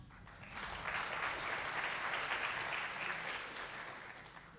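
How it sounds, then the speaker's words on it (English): Audience applause after a keynote session at a seminar, a steady wash of many hands clapping that swells quickly, holds for several seconds and tapers slightly at the end. "A round of applause, everyone."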